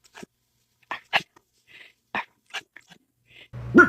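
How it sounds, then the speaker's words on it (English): A dog gives a series of quiet, breathy whisper barks, short soft puffs spaced irregularly, ending in one slightly louder huffing bark, with no talk. "You whisper bark. You go woof."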